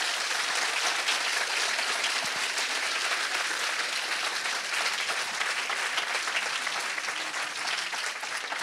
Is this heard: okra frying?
no